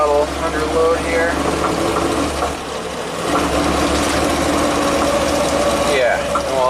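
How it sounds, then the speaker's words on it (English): A 1985 Jeep CJ-7 Renegade engine running at half throttle under load, a steady loud drone with a little popping, close up, with a voice speaking over it. "Half throttle under load here."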